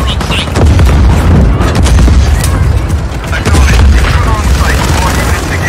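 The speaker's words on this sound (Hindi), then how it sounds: "अबे कौन फायर कौन कर रहा" Gunfire and explosions rage in the Just Cause 4 video game during a train escort mission, with dense, loud booms and rapid shots rolling continuously, and voices speaking over the din.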